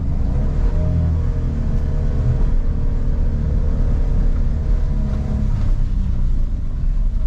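A car's engine drones loud and steady as the driver suddenly gives gas on a slippery, soft road and the wheels spin in place, with a constant low rumble and no pauses.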